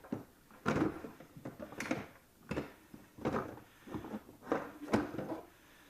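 Interior door panel being pried and worked loose from the rear door of a 2016 Jeep Wrangler, a series of irregular close plastic clunks, scrapes and knocks spread through the clip, with no talking.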